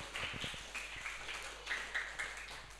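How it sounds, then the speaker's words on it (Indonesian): Congregation clapping for Jesus during a church service, a moderate, uneven patter of hands with a few louder bursts, continuing steadily without speech. "Tepuk tangan buat Tuhan Yesus"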